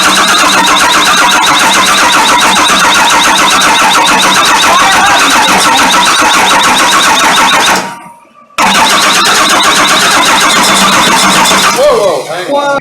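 A Cummins diesel swapped into a Ford truck cranks and fires, running loud and close with a steady clattering drone, cutting out briefly before restarting; people talk over it.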